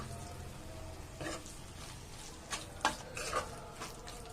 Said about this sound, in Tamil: இப்போ மசாலா பச்சை வாசனை போகிற அளவுக்கு நம்ம மிக்ஸ் பண்ணிக்கிறோம்.